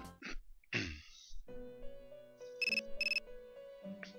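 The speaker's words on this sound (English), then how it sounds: "My phone is ringing." A cell phone ringtone from the video game Persona 3 Portable chimes in a bright, repeating electronic pattern over sustained synth tones, preceded by short breathy vocal sounds.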